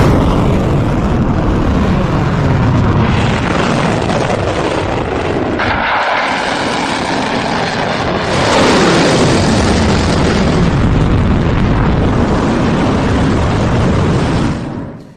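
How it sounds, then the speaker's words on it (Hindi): An Iranian Fateh missile launches with a loud, continuous rushing roar that dips briefly midway, then swells again before cutting off at the end. "ईरान ने अपनी सबसे ताकतवर मिसाइल फतेह दागी है इजराइल पर।"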